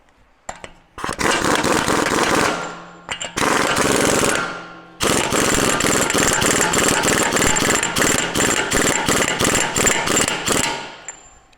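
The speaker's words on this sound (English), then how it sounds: "So I have the impact turned down, so we're going to use this to draw it home." Impact wrench turned down low drawing a control arm nut home on a Land Rover LR4, loud rapid hammering bursts in three runs, the last longest and steadily pulsing, close up and alone.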